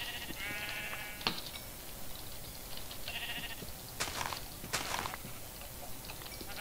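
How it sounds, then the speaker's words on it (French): Minecraft sheep bleat in a few short, nasal calls against a faint game background, with soft footstep-like taps between them. "S'il y a d'autres moutons."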